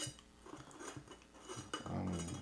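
Metal scraping and light clinks as ground coffee is leveled inside a small Vietnamese phin filter, a run of soft close taps ending in a brief louder scrape.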